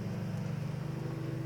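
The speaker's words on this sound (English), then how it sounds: "my husband's outside cutting grass" A lawnmower cutting grass outside runs as a steady low engine drone, distant and muffled through walls, holding an even hum with no breaks.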